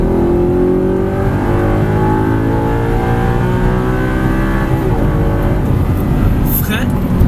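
A car accelerates out of a corner on a driving course, its engine rising steadily in pitch under a man's instructional speech, with a brief higher whine near the end.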